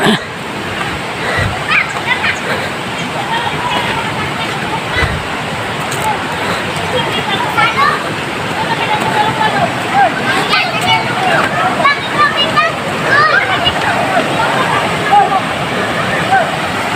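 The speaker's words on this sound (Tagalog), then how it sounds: "Kitang-kita mo na yung ingay ng ilog." River water rushes and churns steadily throughout, a broad continuous wash of flowing current close by, with voices chattering and shouting faintly over it.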